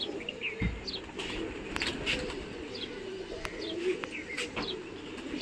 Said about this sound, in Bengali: তো একটু ওপরে আছে পায়রা